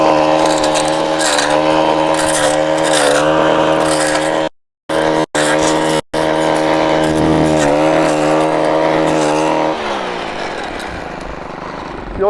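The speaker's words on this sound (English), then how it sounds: "You'll notice this engine kind of bouncing off the top end. That's really a rev limiter." A Stihl KMA135R battery-powered brushcutter fitted with a blade cutting blackberry brambles in Washington State, its engine whining high and steady and bouncing off the rev limiter, with brief cuts in sound and a drop in pitch near the end.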